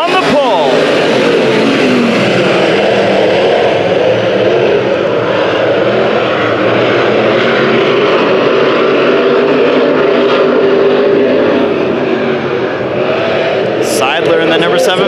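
IMCA Modified race cars roar around an Arizona Speedway dirt track during a heat race, a loud, continuous engine drone with shifting pitch as the pack passes, under an announcer's voice.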